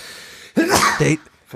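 A single sharp sneeze bursts out, loud and close, after a moment of quiet, with a brief second voiced catch right after it.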